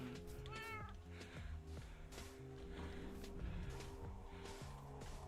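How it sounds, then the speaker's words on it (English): Minecraft cat meowing in a video game, a few short rising meows over a busy bed of low game sounds and tones, fairly quiet overall. "Watch out, kitty."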